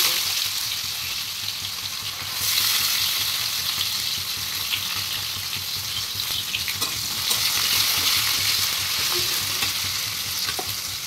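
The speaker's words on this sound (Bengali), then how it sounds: "পেঁয়াজটা আমি একটু লাল লাল করে ভেজে নেবো।" Onions fry in oil in a pan, giving a continuous close sizzle with occasional stirring scrapes and small pops throughout, and no voices.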